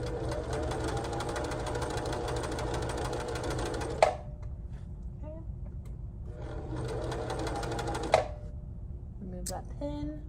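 A sewing machine stitches a waistband over the front seam allowances, running in two steady bursts of close, rapid mechanical whirring separated by quieter pauses with small handling clicks, plus faint talk.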